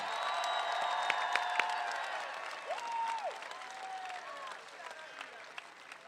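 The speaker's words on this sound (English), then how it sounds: "let's give them a hand" An indoor audience at a University of Iowa women's basketball team celebration claps steadily for the band and cheer team, with loud, dense applause that slowly fades and a few whistles and cheers rising over it.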